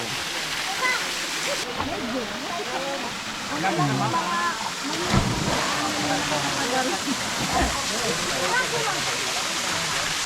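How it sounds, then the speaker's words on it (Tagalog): A steady, loud roar of falling water from Yumigasa (Migasa) Falls in Capisan fills the air continuously, with people talking over it nearby. "So this is the falls. The final waterfalls, Yumigasa Falls."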